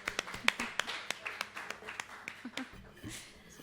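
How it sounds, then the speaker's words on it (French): Sparse applause from a few people in a venue's control booth after a live concert, with individual, irregular claps and talking heard over them. "peut applaudir très très fort ici à la régie"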